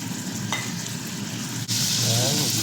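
Pork tenderloin sautéing in a hot pan for pork igado gives a steady, close frying sizzle with a brief stir scrape partway through, and the hiss swells louder after it.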